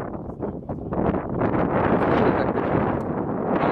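Heavy, continuous wind buffeting the microphone during a pigeon race arrival, a loud broadband roar that builds after the first second and stays steady with no talk.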